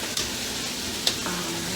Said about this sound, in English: You're going to hear a nice sizzle because that's going to be hitting all those brown bits at the bottom